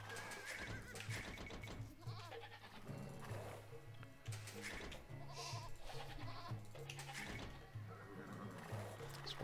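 Sheep bleat repeatedly in a strategy game match on the Acropolis map, the calls mixed into busy game music and effects, with a steady low hum running underneath throughout.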